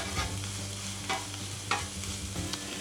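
Garlic and onions frying on a hot outdoor griddle, a steady sizzle with a few sharp scrape-and-stir accents from a spatula, close and moderately loud, no voices.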